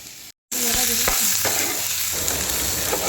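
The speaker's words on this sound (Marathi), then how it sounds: "तर आता मी हे भाजणार आहे ओनियन सोबत." Dry coconut and onions roast in a hot pan, giving a loud, steady crackling sizzle with the scrape of stirring throughout, after a brief silent gap near the start.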